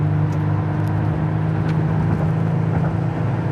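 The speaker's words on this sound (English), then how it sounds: "I'm just going through the gears." A 1982 Pontiac Grand Prix with automatic transmission runs along the road, its engine giving a steady, close hum that eases slightly in pitch as the gearbox moves through the gears, with no voices.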